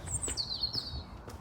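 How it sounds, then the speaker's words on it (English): Outdoors, birds give faint, thin, high-pitched chirps and a short trill over a low, steady background hum. "You hear the birds?"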